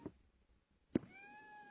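A cat in the Shadow of Destiny video game gives a short, faint meow, then a second sharper, louder cry about a second later, followed by a sustained tonal hum.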